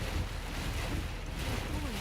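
Strong wind roars steadily outdoors during a tornado storm chase, buffeting the microphone with a loud, constant rumble and no clear voices.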